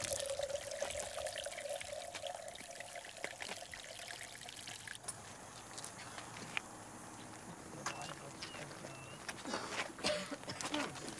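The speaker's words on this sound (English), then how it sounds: "as we drain the water, you'll see there'll be no rotation. It just drains straight down" Water drains from a basin straight down without swirling, on the equator in Africa, a soft steady trickle and pour heard close up with faint background sounds.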